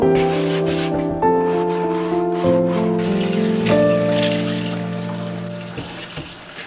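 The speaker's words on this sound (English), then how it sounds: "Switching out the water for the spring onion roots I let grow in a pot about 4-5 days ago." Water being poured out and refilled in a pot of regrowing spring onion roots, a close, continuous splashing and running stream with some ringing tones underneath and no talk.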